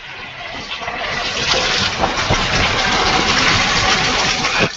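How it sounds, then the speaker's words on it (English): Water gushes steadily into a pot to set up a double boiler for fondue, a loud, continuous close pour with a rushing, splashing hiss that holds for several seconds before a brief final splash. "So I'm going to put some water"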